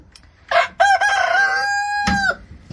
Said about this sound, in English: Ethel, our rooster here, is super unhappy that I'm near his ladies today.